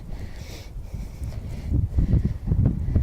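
Strong gusty wind buffets the microphone with low rumbling surges, growing louder toward the end, with faint flapping and rustling of tarps mixed in.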